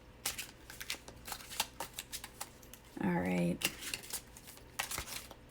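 Tarot cards are shuffled close up in a quick run of crisp, irregular riffling snaps, with one longer riffle burst in the middle, while a person speaks briefly.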